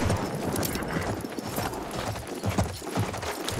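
Horse hooves in the World War I shooter Battlefield 1, a steady galloping clip-clop close by over a constant wash of battlefield noise, with no speech over it.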